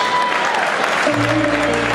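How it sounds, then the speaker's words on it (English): Audience applause at an evening banquet celebration in a grand hall, a dense, steady wash of clapping for the speakers, loud and close, with a faint voice and tonal sound rising briefly midway. "how about a great big round of applause for all of our speakers here this evening?"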